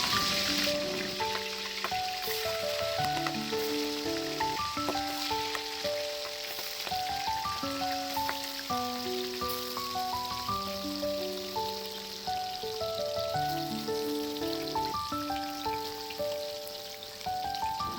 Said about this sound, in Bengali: এবার একে একে চিংড়ি মাছগুলো কড়াইতে ছেড়ে দেবো।